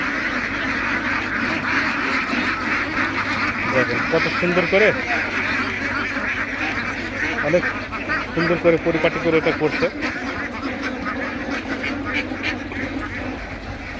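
Ducks quack repeatedly in a noisy flock on a duck farm while someone talks over them, the calls bunching up in the middle then continuing under steady background hum.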